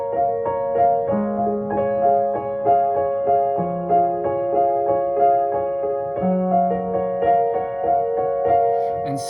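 A song on piano, played an octave higher: a steady, gently pulsing pattern of repeated chords with low bass notes entering now and then, moderately loud and close, with no voices.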